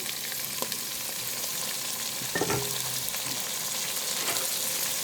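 Tomato and carrot pieces fry in a pan with a steady, soft sizzle, broken by a few brief stirring scrapes midway.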